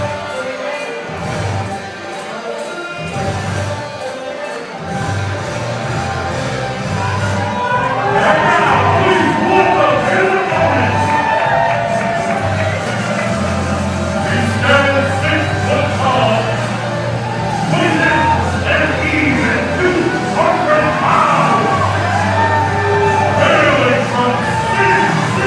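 A wrestling crowd at a 3XW TV event booing Nate Bash, a loud, sustained mass of jeers and yells that swells and fades, with voices talking over it.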